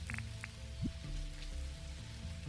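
Rain falls in a cozy farming game, Dinkum, a soft steady patter under faint ambient game tones and a few small blips, with no voices.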